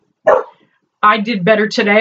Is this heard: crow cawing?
no